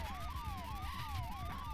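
A video game police siren wails, sweeping rapidly up and down in repeated cycles, loud and close over a low rumbling background.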